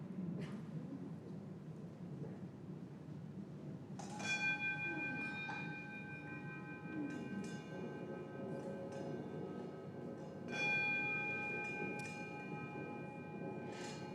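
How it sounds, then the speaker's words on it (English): Bells and singing bowls ring softly at a gathering, with two clear strikes that leave long, sustained tones hanging over a low background murmur. "start ringing your bells and bowls if you want while I'm doing this"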